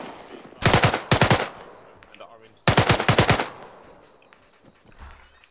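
Machine gun fire in ArmA 3: two loud, close bursts of rapid automatic shots, each lasting about a second, separated by a quieter pause with faint background battle noise.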